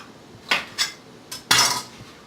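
A knife slices through asparagus stalks on a board for an Asian asparagus salad, four short cutting strokes, the last one longer, close and distinct with no one talking.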